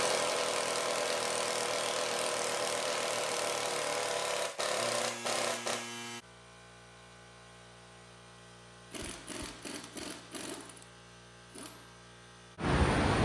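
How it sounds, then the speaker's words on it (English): A pneumatic air impact wrench pulls a bolt on a 2006 Chevy Silverado 5.3L engine, its short, loud rattling bursts coming in a cluster and then once more, after a stretch of steady mechanical running. "Let's actually pull this bolt out. We've got factory one will fit now. Use the air impact."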